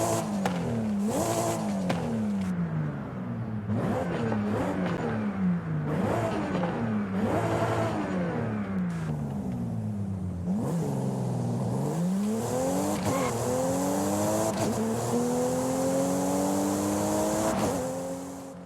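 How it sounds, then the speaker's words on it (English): A Toyota GR Supra's BMW B58 straight-six, tuned to about 330 horsepower, revving repeatedly in the Forza Horizon 5 racing game, rising and falling engine pitch with sustained high revs toward the end, loud and close with no voices. "What you're hearing there is BMW's B58 straight 6 engine, tuned by Toyota to output just over 330 horsepower"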